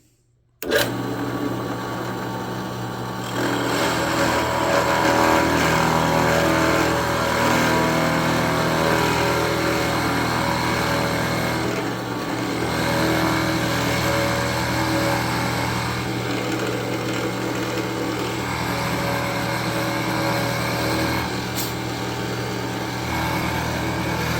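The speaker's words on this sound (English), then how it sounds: "we're going to drill a second hole right now and get that one ready" A power drill whirs continuously at a high, steady pitch after a sharp start, running for a long stretch with slight shifts in load, drilling a hole in a Fender Stratocaster body.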